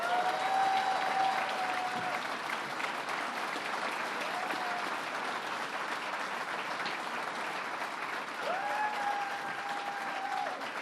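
An audience at a governor's offshore wind announcement applauds with steady, sustained clapping of many hands, even and fairly loud throughout, with a faint tonal whine audible in the background.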